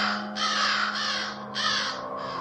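Crows caw harshly in a foggy sky, with three or four loud, rasping calls in close succession over a low steady hum.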